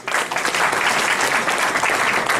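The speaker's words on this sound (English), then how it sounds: "Let us give a big, very big round of applause to our participants" A loud, dense round of applause fills a seminar hall as faculty members and students are honored, steady continuous clapping from a large crowd with no pauses.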